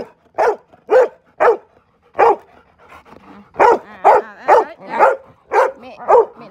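Dogs fight and bark close by, firing off a quick string of sharp barks and yips spaced in irregular bursts, with brief whimpers in the quiet stretches between them.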